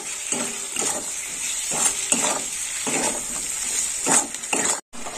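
Potatoes stir-fried with salt and turmeric in a pan, a bright continuous sizzle with rhythmic stirring scrapes and spatula knocks, close and fairly loud, cutting off abruptly near the end.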